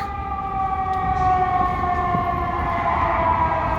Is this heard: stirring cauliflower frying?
no